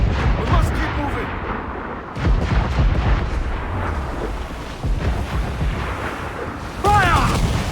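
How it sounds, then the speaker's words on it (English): Naval battle in the video game Assassin's Creed IV: Black Flag, with mortar and cannon fire rumbling in dense, continuous booms and blasts while crew voices shout over the din. "Mortar incoming!"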